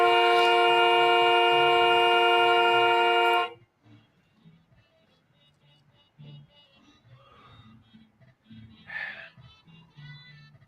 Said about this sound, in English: You can't just honk and get your way.